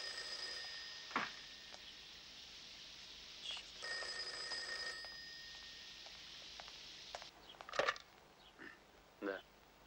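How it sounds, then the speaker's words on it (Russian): A telephone rings in a room in a 1991 Russian feature film, giving several bursts of bright, electric ringing separated by pauses, with a few soft knocks and rustles in between. "Телефон. Телефон."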